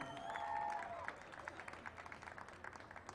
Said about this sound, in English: How about a round of applause for Christy Gretsch, everyone?